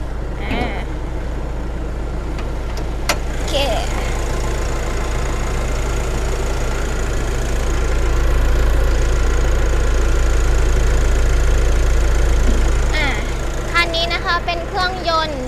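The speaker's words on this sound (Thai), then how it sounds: "เปิดห้องเครื่องให้ดูนะคะ ฟังเสียงเครื่องยนต์กันไปเลย" A Nissan NP300 Navara King Cab pickup's common-rail diesel engine, 163 horsepower, idles with its hood open, a steady low rumble and knocking clatter heard close up, while a person talks over it.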